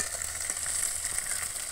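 Chicken curry fries in oil in a pan, a steady, close hiss of sizzling with no talking.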